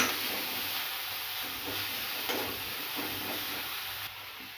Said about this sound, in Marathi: कोथिंबीर चांगली अशी फ्राय करून घ्यायची